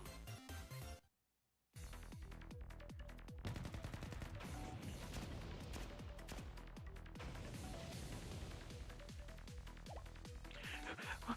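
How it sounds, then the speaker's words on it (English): Gunfire in the Blue Archive video game, set in catacombs: after a moment of silence, a dense run of sharp, loud cracks and crashing impacts follows. "It sounded like a gunshot."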